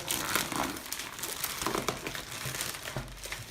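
A cardboard box and paper wrapping around a Razer BlackWidow Chroma keyboard are torn and crumpled by hand, with close, continuous crinkling and ripping that runs for a few seconds with no speech.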